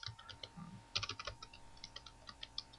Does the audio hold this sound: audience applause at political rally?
no